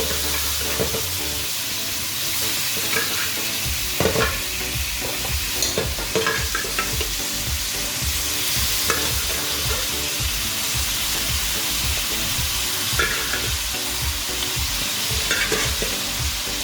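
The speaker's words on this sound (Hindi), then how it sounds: "गोश्त यहाँ गल चुका है, अब हम इसकी भुनाई करेंगे। पैन लेंगे और इसमें हम डालेंगे गोश्त" Boiled, tender beef on the bone for a restaurant-style karahi is stir-fried in a pan, giving a loud, steady sizzle throughout with repeated scraping and stirring strokes, and no talking.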